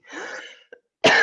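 A person clears their throat with a rough, drawn-out rasp, followed by a tiny catch and then a sharp, loud cough, all close and without talk.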